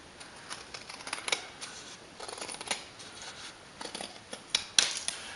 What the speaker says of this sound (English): And I'm just going to cut out around my card.